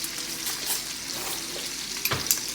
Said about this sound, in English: we're gonna use the basting juices to basically baste the steaks